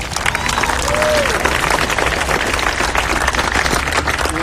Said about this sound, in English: You got to give a round of applause for that.